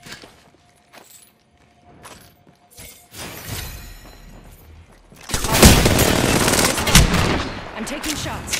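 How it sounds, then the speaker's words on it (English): Rapid automatic gunfire from an Apex Legends match erupts loud and dense after several seconds of scattered shots and quieter battlefield noise, sustained bursts with shattering impacts, close to the listener. "Taking shots."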